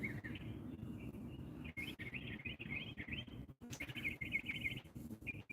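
Small chirps from a baby bird repeat in quick bursts close by, set against a steady low murmur of background noise with brief gaps between the calls.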